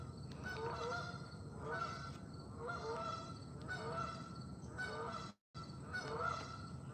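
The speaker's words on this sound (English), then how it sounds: "geese. Yeah, geese. Did you hear their crash landing?" Geese honking repeatedly in rhythmic bursts as a flock comes in to land, fairly close and steady, with no talk over them.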